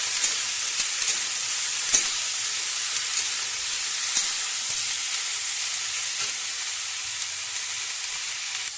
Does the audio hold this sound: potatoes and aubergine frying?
yes